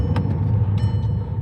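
A Volkswagen Tiguan R-Line accelerating hard, with a steady, loud engine and road rumble heard from inside the car and no talking.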